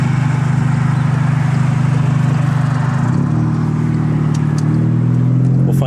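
Modified car engine running loud and close with a steady low drone, then revving upward near the end as it accelerates.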